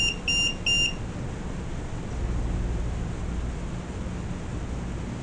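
Three short, high electronic beeps from an EMF detector sound in quick succession at the start, then stop, leaving a steady low hiss, in the basement of the Lizzie Borden House.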